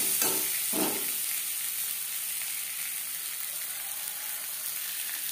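About ten to twelve potato pieces fry lightly in oil with salt and turmeric for a mutton curry, a steady close sizzle with a couple of stirring scrapes early on, no talking.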